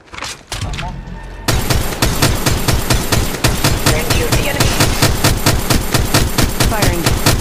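Rapid automatic gunfire in the battle royale game Apex Legends, with dense, continuous bursts of shots that repeat steadily after a brief opening stutter and stay loud and close, with a voice speaking briefly over the shooting.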